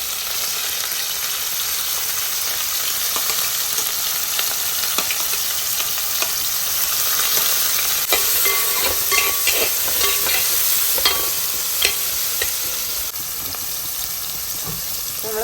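Shallots sizzling in hot oil with mustard seeds and fenugreek for a crab roast, a steady bright frying hiss with crackles and occasional pops and stirring clicks, close and continuous.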